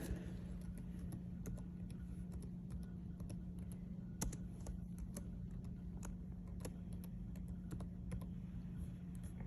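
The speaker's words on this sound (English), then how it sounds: "you're going to type in your name there" Typing on a computer keyboard while entering a name into a nursing job application form: a steady run of light, quick key clicks over a low constant hum, with no talking.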